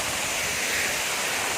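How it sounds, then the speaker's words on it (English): A waterfall on a hiking trail near a village sends out a steady broadband rush of falling water, constant and close, with no talk over it. "And our waterfall over there."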